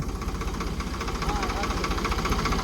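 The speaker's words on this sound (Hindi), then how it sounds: "देखो पहले तो आवाज़ देखो ट्रैक्टर के" A Farmtrac 60 Powermaxx diesel tractor engine runs loud and close at about 1800 rpm, chugging with a steady rapid knock.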